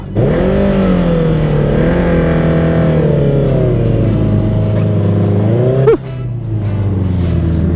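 Car engine straining uphill with a slipping, burning clutch, revving loud and steady close by, rising and falling in pitch before a sharp knock near six seconds, then a lower continued drone.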